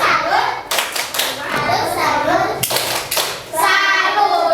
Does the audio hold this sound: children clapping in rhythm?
yes